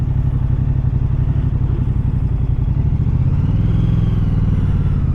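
A 2023 Moto Guzzi V100 Mandello motorcycle engine runs steadily while riding, a loud, close, throbbing low rumble with wind noise and a slight rise in revs near the end.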